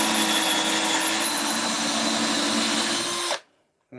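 A power drill runs steadily while clearing out a bored hole in a wooden flute, giving a loud, close whine with a grinding edge that holds for about three seconds and then cuts off.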